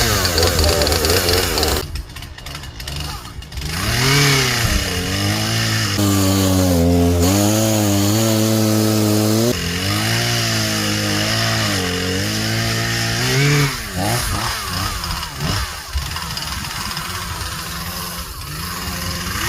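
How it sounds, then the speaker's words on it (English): A Husqvarna 240 chainsaw is pulled to start and roars into life, its two-stroke engine revving up and down in loud close bursts with rough idling gaps between. "The old weekend saw. It's a Husqvarna 240, in case you're wondering."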